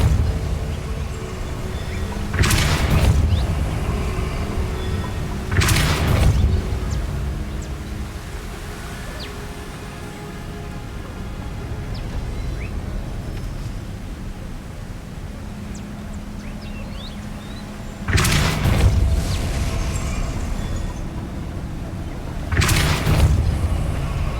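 In the Hogwarts Legacy video game, the Depulso spell is cast repeatedly: four loud, broad whooshing blasts arrive in two pairs, separated by a long stretch of quieter ambient game sound.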